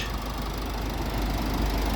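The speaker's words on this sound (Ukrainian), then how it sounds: "Двигун працює без проблем, можна сказати, шепче." A 2008 Renault Koleos 2.0 dCi diesel engine idles close by with a low, even knocking rumble and slight vibration, steady throughout.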